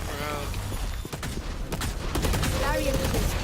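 Rapid bursts of video game gunfire crackle throughout, dense and loud, with bright sharp shots and some rattling, automatic-sounding volleys layered over background game sounds.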